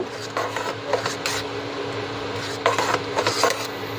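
A spoon stirs mango payesh in a pot with brief scraping and clinking sounds in short bursts, moderately close, over a faint steady background hum.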